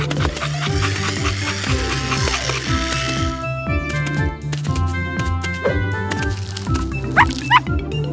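A cartoon puppy's barks ring out over a busy, loud musical score, the yaps short and partly buried under the bright melody and percussion.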